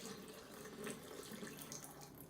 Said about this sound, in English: and then run some hot water in the sink